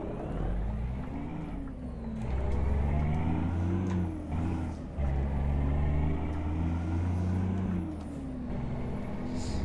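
A heavy vehicle engine labors uphill in eighth gear in a driving game mod, a loud, low droning growl whose pitch rises and falls as the revs change.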